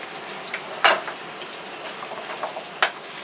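Onions and carrot frying in a pan make a soft, steady sizzle up close, punctuated by two sharper clacks of a utensil stirring against the pan.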